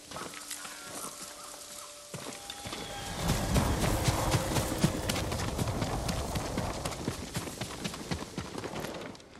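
Horse hooves clip-clop at a steady walking pace in the Ghost of Tsushima video game, soft at first and then louder and closer over a low rumbling background.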